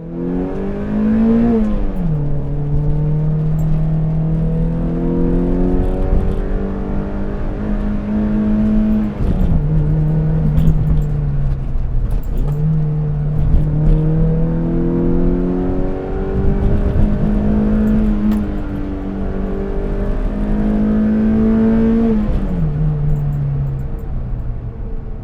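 Mazda MX-5 NC (Mk3) sports car being driven, its engine revving and climbing through the gears with repeated upshifts, loud and close in a sustained drone with no talk.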